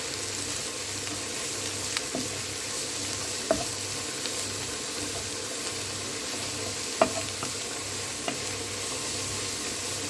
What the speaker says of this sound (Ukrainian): Смажимо під кришечкою.